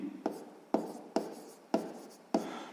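A pen writes on notebook paper during a sixth-grade maths exercise, with five distinct scratchy strokes spaced at a regular rhythm, close and fairly quiet, with no voices.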